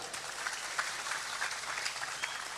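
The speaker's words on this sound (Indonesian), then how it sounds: "Boleh tepuk tangan." Audience applause during a speech, a steady patter of scattered claps that stays fairly faint and even for its whole short length.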